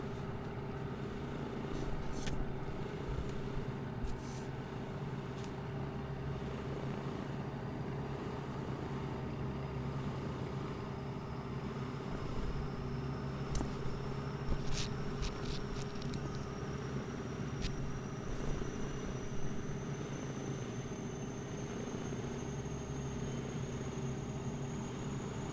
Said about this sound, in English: Flap is open, so now we can fire the APU